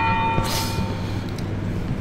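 A bell tolls in the video game Cry of Fear, one broad resonant strike ringing out early and fading slowly over a steady low ambient drone.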